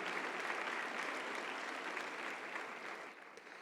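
Steady, dense applause from a church congregation, many hands clapping evenly and fairly loud, tapering slightly near the end.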